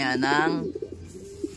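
Racing pigeons coo in soft, low rounded calls during the last half, following someone speaking Filipino at the start.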